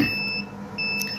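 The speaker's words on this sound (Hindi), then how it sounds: "ये जो बीप कर रहा है जी बार बार, ये जब 37 तक पहुंचेगा तो ये खुद ही बंद हो जाएगा" An electronic egg incubator warming up toward 37 degrees sounds a steady, repeating high-pitched beep, two clear tones close by over a low hum.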